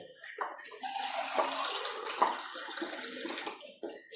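Water is poured from a cup into rice batter for vattayappam, giving a splashing, trickling pour with small irregular bursts, close and fairly quiet, with no talking.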